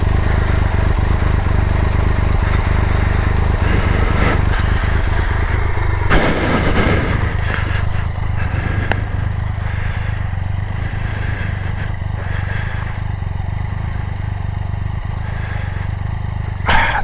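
A motorcycle engine runs steadily and loudly nearby at a campsite in the Valley of the Gods, a continuous rumble with brief clattering bursts partway through.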